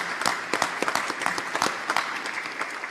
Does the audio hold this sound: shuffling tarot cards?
no